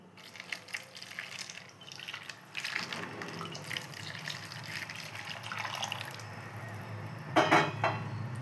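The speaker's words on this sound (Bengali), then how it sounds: "একটু গরম জল দেব।" Warm water is poured over dirty drawing brushes, a steady running and splashing that carries on for several seconds and swells into a louder gush near the end, with no voices.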